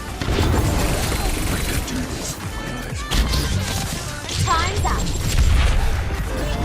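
Loud crashing explosions and bangs from a video game repeat over several seconds, with a person talking excitedly over the din.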